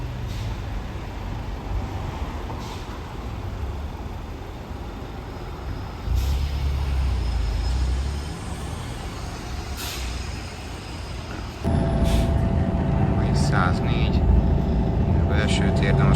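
A bus with air brakes arriving, its engine rumbling low and steady before a loud hiss of air brake release near the end, followed by ongoing nearby engine noise and faint sharp clicks.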